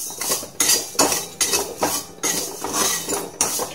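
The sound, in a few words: tea leaves and sugar being fried in a pan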